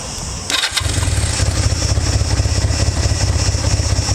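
A decades-old Honda CB250 Nighthawk twin-cylinder motorcycle engine cranks and catches after a brief moment, then settles into a steady, loud, lumpy idle with a regular low throb.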